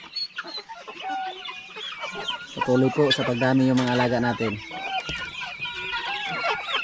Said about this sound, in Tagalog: May bagong sisiw naman tayo ng pabo dito.